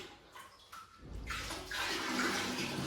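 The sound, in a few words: pouring a bucket of water into an aquarium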